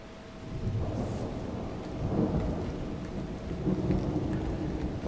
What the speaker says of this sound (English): Thunder is so scary.